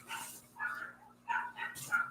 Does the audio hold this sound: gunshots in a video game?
no